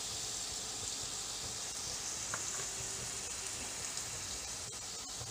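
Vegetables sauté in a hot iron kadai while a sizzler is being prepared. A steady, even sizzling hiss runs throughout with no pauses and no talking.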